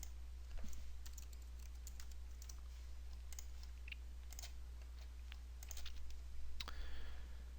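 Folder names are typed on a computer keyboard in quick, quiet bursts of clicking keystrokes over a steady low electrical hum, with short pauses between words.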